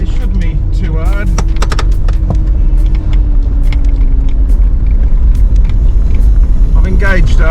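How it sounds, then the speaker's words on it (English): A 4x4 in low-range first gear climbs a rocky hill, its engine a loud steady rumble, with crunching and knocking from the rocks and a voice talking over it. "I've engaged first gear, low range."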